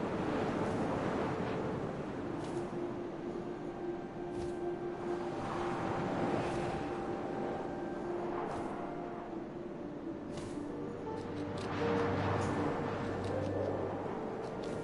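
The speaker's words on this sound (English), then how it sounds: "First, all I heard was the wind." Wind blows in the video game What Remains of Edith Finch, a continuous broad rushing that swells and eases over a long stretch, steady and moderately loud with no talk.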